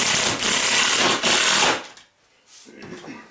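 Bolts being tightened while mounting a Dillon RL550B reloading press: a busy ratcheting, whirring mechanical burst for under two seconds, then a quieter pause and faint clicking, close up.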